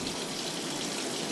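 Ozonated tap water runs in a steady, full gush from a faucet, a dense continuous rush filling the whole span with no voices.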